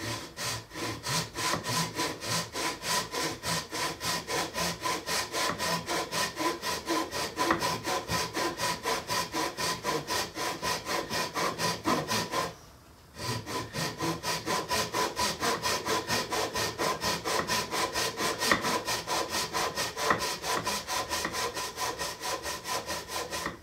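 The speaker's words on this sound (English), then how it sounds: "go ahead and start cutting your frets" A hand saw cuts fret slots into a wooden ukulele fingerboard with steady, rapid back-and-forth rasping strokes, close and continuous. There is one brief pause partway through.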